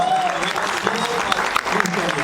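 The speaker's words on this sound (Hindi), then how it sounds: "यशपाल सर के लिए जोरदार तालियां।" Applause from an audience for Yashpal at a film trailer event, a brief dense patter of clapping under a voice speaking over it.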